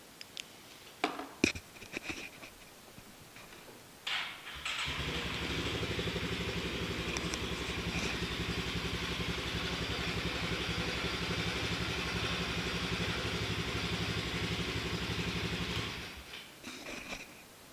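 A Polaris Sportsman 570 ATV engine starts after a few clicks and knocks, then runs at a steady, loud idle for about twelve seconds before shutting off.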